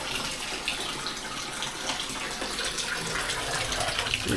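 Bathtub filling with water for a soak, a continuous soft rush of water pouring from the tap, steady and fairly quiet throughout, with no voices over it.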